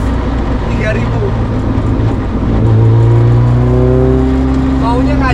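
A 2022 Caterham Seven 620S engine holds a steady, loud growl that swells partway through into a higher rev, with someone talking over it throughout.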